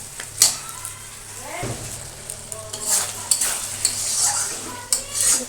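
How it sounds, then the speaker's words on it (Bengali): Spice masala for an egg, potato and cauliflower curry is stirred and sautéed in a pan, with a steady sizzle, utensil scrapes and clinks, and someone talking over the cooking. "এটা মশলাটাকে আমি ভালো করে কষিয়ে নিলাম"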